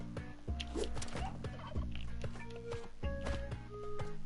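Repeated turkey gobbles from the video game Spelunky 2, loud rhythmic bursts over a steady game music bed with footstep-like clicks.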